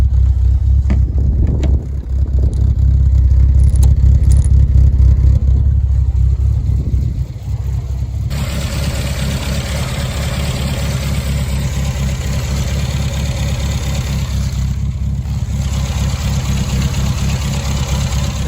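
A car engine on a test drive, first a loud, heavy rumbling rev that drops off, then a steady, close idle that holds evenly for the remaining ten seconds.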